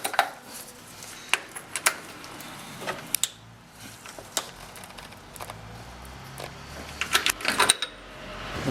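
Oil filter wrench handled during a DIY oil change on a 2007-2014 Toyota Tundra: scattered sharp metallic clinks and taps, close and moderately loud, in irregular bursts against a quiet garage background.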